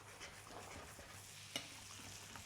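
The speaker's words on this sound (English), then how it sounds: "Just brown this butter and just spoon it over." Butter foaming and sizzling in a pan as it is spooned over a steak, a faint, steady crackle with soft scraping stirs and one sharp clink partway through.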